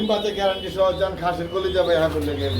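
A pair of white Bombay pigeons coo in repeated low, throaty, rolling phrases, close and fairly loud, with a voice mixed in underneath.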